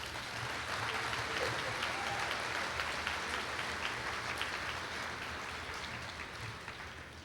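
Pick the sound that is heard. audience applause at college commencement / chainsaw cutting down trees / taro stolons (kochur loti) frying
audience applause at college commencement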